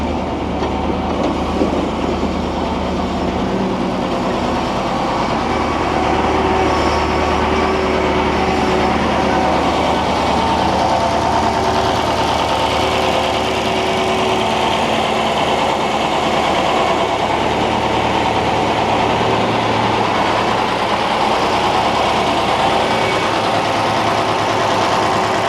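A 47-year-old Ford FW30 articulated tractor's engine, a loud, steady low rumble that draws close and settles into a continuous idle with no talk over it.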